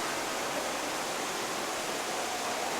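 Steady, even rushing of falling water from an indoor fountain in a large department store, a continuous broadband splash with no breaks and no voices.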